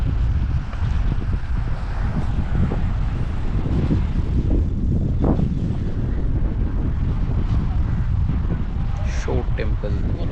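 Sea breeze at the shore by the Shore Temple in Mahabalipuram, facing the Bay of Bengal, buffets the microphone in a steady, loud rush for the whole stretch, with voices faintly mixed in.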